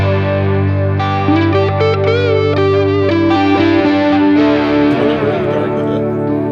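Electric guitar loop replaying through a Joyo D-Seed II delay pedal, with layered sustained notes and shifting melodic lines under a steady, dense wash of effect, loud and continuous with no talking.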